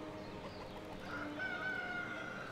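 Chickens clucking and a rooster crowing in the village-building game Ostriv, a short burst of close farmyard fowl calls with a drawn-out crow rising near the end.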